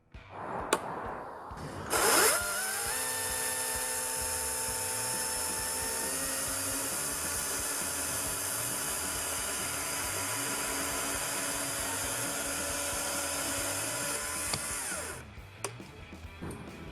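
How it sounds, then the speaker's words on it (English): A STIHL chainsaw cuts through wood, its engine revving up after a brief start and holding a steady, high whining drone for over ten seconds before easing off near the end, loud and close. "So the saw is cutting with maximum efficiency."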